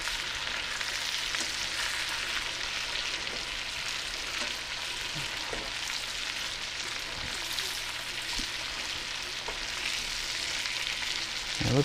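Liver frying in a pan, a steady continuous sizzle with occasional soft clicks and scrapes of turning, close and alone.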